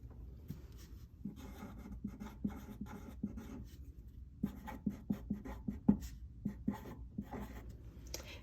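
Pencil writing on paper during a classroom lesson about plant patterns, heard as quiet scratchy strokes with light taps in an irregular rhythm, close and alone.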